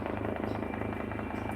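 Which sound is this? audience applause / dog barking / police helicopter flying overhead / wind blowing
police helicopter flying overhead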